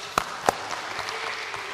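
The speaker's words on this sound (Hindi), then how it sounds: "Shall we give mighty clap for Jesus?" A church congregation claps for Jesus, a few sharp close claps followed by a dense, steady patter of applause from the crowd.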